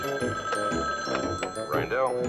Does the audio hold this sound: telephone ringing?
yes